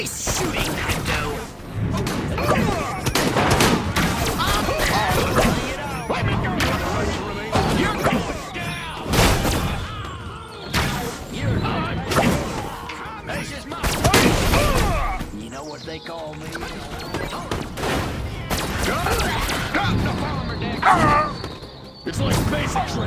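Gunfire in Destroy All Humans: Clone Carnage, with repeated loud bursts of shots and impacts in a chaotic game battle, broken by brief pauses and mixed with shouted voices and effects.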